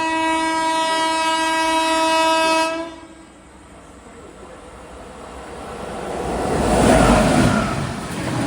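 A mail express train sounds a long, loud horn nearby while overtaking on the line toward Palakkad Junction, then rumbles past with rising wheel and carriage noise.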